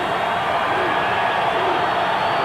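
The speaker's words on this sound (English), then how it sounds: "And you can hear the crowd back into it." A basketball arena crowd at a 1993 NIT game between UAB and Alabama keeps up a dense, steady roar of cheering and chatter, distant and continuous without distinct peaks.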